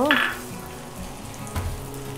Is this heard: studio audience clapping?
no